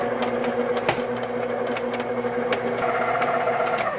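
A stand or hand mixer beats pound cake batter on low speed, giving a steady loud motor hum with a constant whirring drone and faint rhythmic clicks, continuous throughout with no talking.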